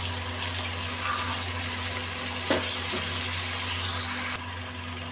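Water poured into a pan of frying potato, papaya and soybean curry, a steady broad hissing gush that runs almost continuously, with a brief clink partway through before the hiss thins out near the end.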